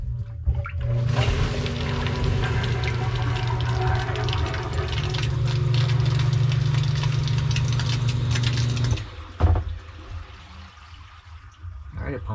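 A submersible sewage ejector pump runs steadily for about nine seconds, a strong low hum with water churning through it, then cuts off with a brief clunk, leaving quieter room noise.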